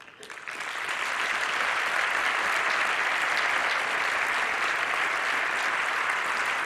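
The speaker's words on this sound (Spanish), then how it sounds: "me gustaría pediros a todos un aplauso para esos maestros y maestras de Aragón" Audience at Foro EMPRESA 2016 applauding the teachers of Aragón, heavy continuous clapping that builds over the first second, then stays loud, even and close without any speech.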